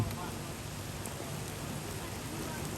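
Steady rain falls at a roadside shrine during the rainy season, a dense even hiss that continues without a break and stays close.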